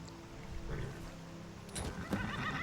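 A horse in the video game Skyrim gives a whinny partway through, set against a steady game ambience with a low hum and a few clip-clop-like knocks near the end.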